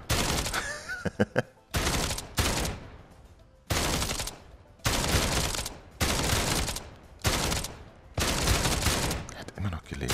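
Gunfire bursts in the PlayStation VR shooting game Dick Wilde 2 come in repeated loud volleys of rapid shots separated by brief pauses, with a few sharp single shots at the start.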